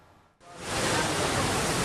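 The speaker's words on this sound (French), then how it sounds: "Les vagues déferlantes de la mer ont encore dicté leur loi dans la langue de Barbarie" Breaking sea waves crash on the Langue de Barbarie shore near Guet-Ndar and Santhiaba, a sudden loud, continuous roar of surf that swells up after a quiet moment and holds steady, with no talking.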